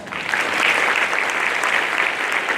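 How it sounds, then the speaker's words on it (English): Dense, bright applause from an audience honoring teachers at a talk, a continuous wall of clapping at a steady level throughout the short stretch. "give a big round of applause for your teachers"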